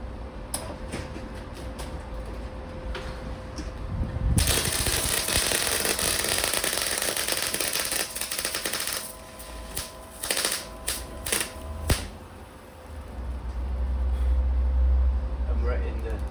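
A cheap 250-amp Blackline MIG welder lays a bead on zinc-coated steel, crackling and sputtering in loud bursts with short pauses between runs, alongside a low background hum and someone talking.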